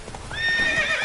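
A horse in a PS4 video game gives a loud, rising whinny over the start of galloping hoofbeats, close and clear in a brief burst.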